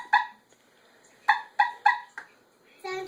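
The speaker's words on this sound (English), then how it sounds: "You got a honker on there." A pink princess-style toy ride-on car's honker horn gives several short, bird-like squawking honks in an irregular series, close and fairly loud, with a brief voice at the end.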